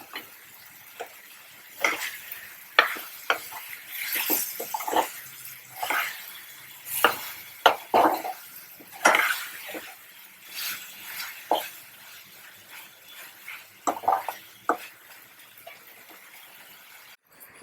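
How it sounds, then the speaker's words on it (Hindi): Vegetables and chilies for kadai paneer stirred in a kadai, with a spoon repeatedly scraping and clinking against the pan amid soft sizzling, in irregular bursts close by. "अब ये सब्जियां इसमें सारी मिर्च एक साथ पका लेंगे इनको।"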